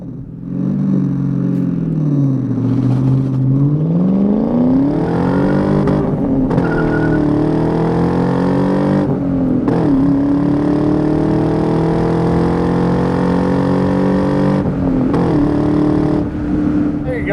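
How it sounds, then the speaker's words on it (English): A 2000 Ford Saleen S281 with a 4.6-litre V8 pulls hard under full throttle, its loud engine note climbing steadily through the revs, dipping briefly at shifts and rising again, close and continuous throughout. "We'll let these cars go, and then we'll really roll into the throttle here."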